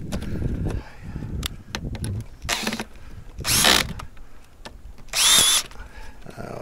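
A ratchet cranks down the mount of a solar-powered camera bird feeder during assembly, giving bursts of rapid clicking and short metallic whirs between quieter handling noises, close up.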